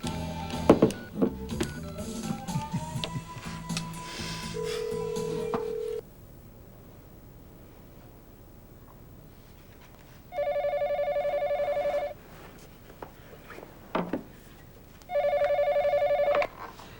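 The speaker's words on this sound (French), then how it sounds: "Moi, j'appelle Marielle." A telephone is dialed with a quick run of key tones, then a steady ringback tone sounds in two separate long bursts with quiet gaps between, close and clear with no talking.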